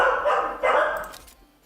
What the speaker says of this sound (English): when my dogs are barking now